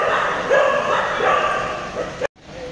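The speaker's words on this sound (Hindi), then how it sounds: "राज्य के एयरपोर्ट में कुत्ते भी है," Dogs at an airport give several yips, whines and short barks under steady nearby talking. The bursts are moderately loud, and the sound cuts off abruptly near the end.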